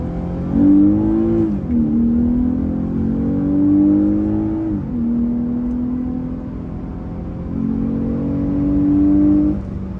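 A 2020 Lexus IS 350 F Sport engine revs up repeatedly toward redline, its pitch climbing and then dropping between shifts, loud and close with a steady mechanical whir underneath.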